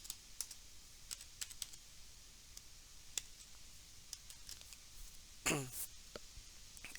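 Sparse, quiet keystrokes on a computer keyboard while typing Python code, scattered taps with a louder clatter near the end, no talking over them.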